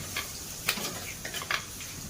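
Dried fish curry with ground coconut is stirred in a pot, with soft, intermittent scraping and clinking strokes over a faint background sizzle.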